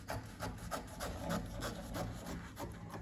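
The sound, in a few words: cutting fabric for a dress sleeve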